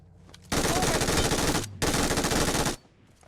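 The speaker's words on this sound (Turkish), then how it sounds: "Adamlar sıkıyor." Enemy automatic gunfire in the PUBG Mobile game: two loud, sustained bursts of rapid fire, each a bit over a second long, separated by a brief gap.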